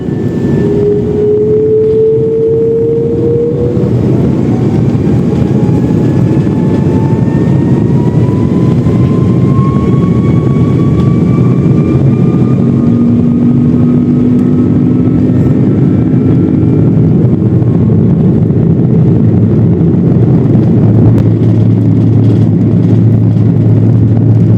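China Eastern Airlines jet engines roar loudly and steadily through takeoff, heard from inside the cabin, with whining tones that climb in pitch throughout. No speech.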